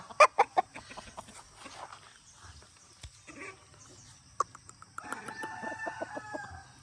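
A gamecock rooster bred for fighting gives sharp, close clucks in a quick burst, then scattered calls, and ends with a loud drawn-out crow, with quieter farm sounds in between.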